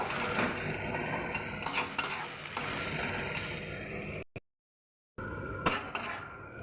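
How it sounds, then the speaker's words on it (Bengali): Slit green chillies and crushed garlic frying in a pan, soft sizzling under scraping and stirring of a utensil against metal, close up, broken by a brief silent cut before the stirring resumes. "চিড়ে রাখা কাঁচা লঙ্কা এবং থেতো করে রাখা রসুন সমস্তগুলো একটু ভালো করে আমি ভেজে নেব"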